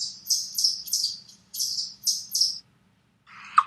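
A chipmunk trills excitedly near berry bushes, giving six quick, high chirping bursts in two groups of three, then a short pause and one final sharper call, soft and close against a quiet background.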